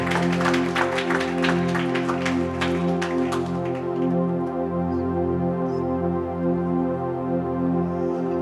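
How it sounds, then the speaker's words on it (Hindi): A church congregation claps for guest speaker Pastor David Punekar, a dense burst of applause for about four seconds that fades out, leaving a steady sustained musical tone underneath. "आए प्रभु का दास के लिए एक बार फिर ताली बजाएं"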